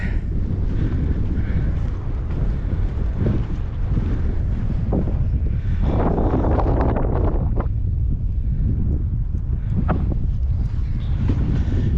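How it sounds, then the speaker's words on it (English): Strong wind roars and buffets the microphone nonstop at the White Bluffs sand dunes in the Washington Scablands, a loud, gusting rumble with no break. "it got windy"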